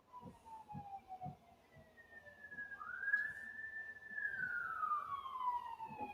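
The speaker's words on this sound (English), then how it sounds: "So it's funny that the popo sirens are going off." Police sirens wail faintly in the distance, a sweeping whistle-like tone rising and falling, with soft low thumps underneath.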